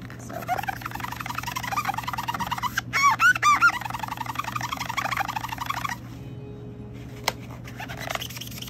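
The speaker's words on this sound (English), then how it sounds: "So I'm gonna magic eraser, and excuse the horrible noise." Continuous high-pitched squeaking and squealing from a magic eraser vigorously scrubbing a watercolor palette, with a burst of louder rubbery squeals midway before it fades to quieter friction.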